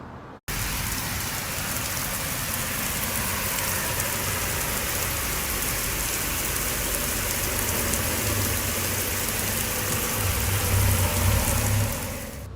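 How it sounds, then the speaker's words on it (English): Steady, dense rainy-season rain falls in Mexico throughout, a constant loud hiss of drops hitting surfaces, with a low rumble swelling near the end. "It's starting to rain."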